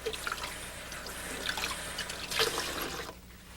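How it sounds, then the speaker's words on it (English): Cold tap water runs steadily over fresh comfrey leaves being rinsed, a close continuous splashing stream with small drips and rustles, cutting off near the end. "rinse them quickly under cold running water"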